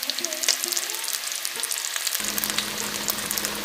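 Spices fry in oil in a kadai for Bengali katla fish kalia, giving a close, continuous sizzle with small crackles and a few faint tonal clinks, and no talking.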